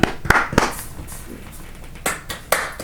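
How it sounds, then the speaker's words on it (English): A few people clap in scattered, uneven bursts, a handful of sharp claps separated by pauses, close and fairly loud, with a faint voice in the background. "give yourself a round of applause"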